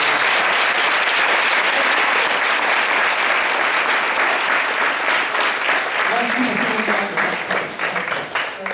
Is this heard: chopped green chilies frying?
no